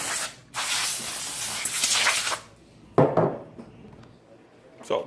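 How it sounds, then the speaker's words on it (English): Compressed air sprayed into an open laptop to blow out dust: a long steady hiss lasting about two seconds, then a shorter blast and a brief final puff, loud and close. "just to spray it out a little bit. Get all the dust out."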